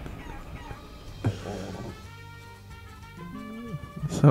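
Chickens cluck and squawk in the video game Guacamelee, a series of short fowl calls rising and falling over a low game soundscape, with a sharper burst near the end.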